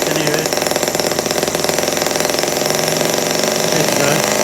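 A Stirlingkit N12b model engine runs fast and hard, giving a dense, continuous mechanical drone with a rapid steady pulse that stays loud and close throughout.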